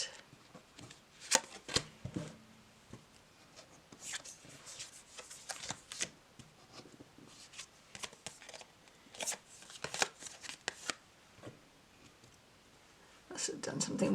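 Tarot cards from a Bonestone & Earthflesh deck are shuffled quietly and close up, with soft riffling bursts and taps scattered over several seconds and faint voices murmuring nearby.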